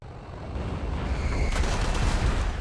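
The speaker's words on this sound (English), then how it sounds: "Quick test of my guns right there" Aircraft guns in War Thunder fire in a continuous rumbling burst that grows slightly louder, a dense crackle over deep low-end roar with no talk.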